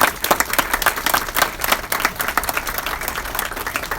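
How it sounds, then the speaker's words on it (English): Applause from an audience at a Brock University announcement, a dense burst of many hands clapping that carries on steadily for several seconds with no talk over it. "they deserve a round of applause"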